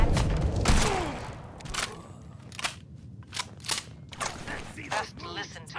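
Gunfire in the video game Fallout 4: several sharp, loud shots and mechanical clicks scattered irregularly through the stretch, with game dialogue and ambient sound between them.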